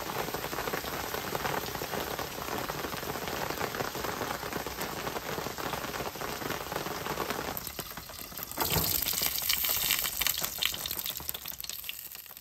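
Steady rain pattering down at an RV campsite in Osceola, Florida, continuous and fairly close, with a brief shift in texture near the end as the downpour grows heavier.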